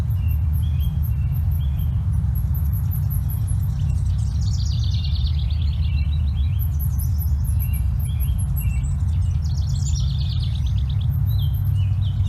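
Outdoor birdsong: a jumbled burst of very fast high notes from a fairly close bird, repeating in phrases several seconds apart over a steady low rumble of background noise.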